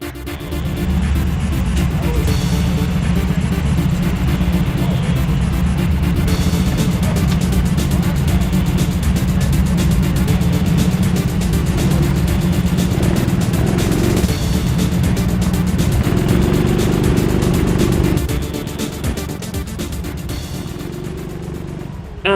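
Go-karts race around an indoor track at TeamSport Trafford Park, a loud sustained engine drone that rises and falls as karts accelerate and pass, with faint talk underneath.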